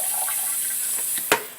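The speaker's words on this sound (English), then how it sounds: "So now we're going to do one more drench just for good measure." Water poured to drench microgreen soil in a tray, a steady wash of liquid running throughout with a brief louder splash near the end.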